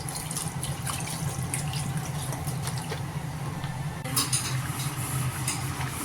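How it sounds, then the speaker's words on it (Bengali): Water runs into a pot of browned chicken being cooked down for a potato curry, a continuous splashing trickle with a few light metallic clinks, close and steady. "আমি সুন্দর করে ভালো করে মুরগির মাংসটাকে কষিয়ে নিয়েছি তারপর আমি পানি দিয়ে দিচ্ছি"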